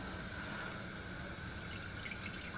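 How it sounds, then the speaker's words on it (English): Soaking water drained from soaked millet through a sieve in a home kitchen, a faint, steady trickle and light dripping with a low background hiss, no talking. "Now we will just drain out the water."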